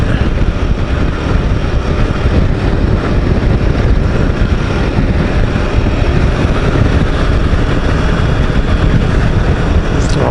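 A Royal Enfield Himalayan 450 motorcycle engine runs while riding in fifth gear. It makes a loud, steady roar mixed with rushing wind throughout, with no talking.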